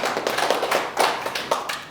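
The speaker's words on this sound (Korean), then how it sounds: "박수 주세요." A lecture audience at a Korean local self-governance college class gives a short round of applause: scattered, moderately loud hand claps that rise in a few uneven bursts over about two seconds, with no talking.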